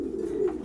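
Pigeons feeding on fava beans give one brief, soft, low coo close by.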